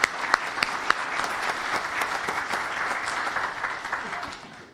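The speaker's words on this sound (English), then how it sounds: "So one last round of applause for these great students." Applause at an O'Fallon, Missouri city council meeting honoring students: steady moderate clapping from a room of people lasting several seconds before tapering off at the end.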